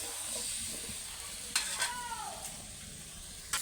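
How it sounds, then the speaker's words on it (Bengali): Vegetable stalks frying in hot oil in a wok give a steady close sizzle and hiss, broken by a few sharp scraping stirs of a spatula. "এবার ডাঁটাটা দিয়ে দেবো দিয়ে ভালো করে ভাজবো"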